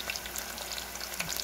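Onion and ginger sauté in a pan for arroz caldo, making a steady, soft, hissing sizzle with a few faint crackles, close by and quiet, with no one speaking.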